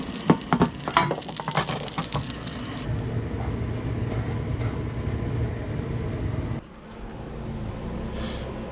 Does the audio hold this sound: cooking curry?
yes